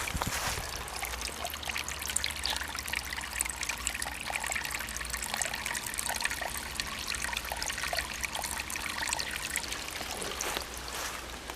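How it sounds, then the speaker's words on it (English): A small mountain stream on Mount Mansfield, Stowe, Vermont, trickles and babbles continuously nearby, a steady bright watery wash with tiny splashes and no voices. "You hear the water trickling."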